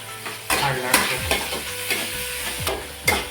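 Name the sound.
finely chopped onions frying in a pan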